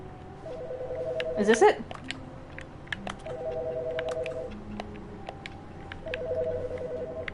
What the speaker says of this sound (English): This phone is the one that's ringing.